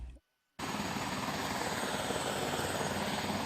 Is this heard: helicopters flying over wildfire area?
yes